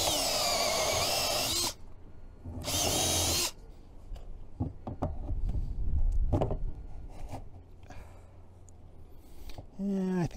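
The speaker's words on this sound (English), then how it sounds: "We have a nice little Milwaukee drill with the step drill, and hopefully that'll be about the right size." A Milwaukee drill fitted with a step drill bit bores through material during a boat steering console install, running in loud whirring bursts separated by pauses, with scraping and handling noises between runs.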